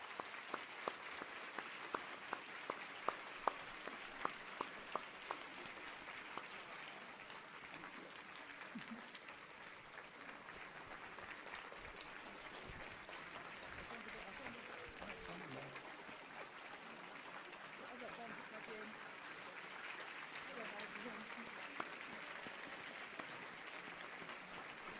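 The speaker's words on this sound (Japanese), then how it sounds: "リチャードとビロニカタウンに大きな拍手を送ってください" An audience applauds at a Robert Kiyosaki seminar in Japan, with steady, sustained clapping from a large crowd that continues for the whole stretch, starting with a few sharper individual claps.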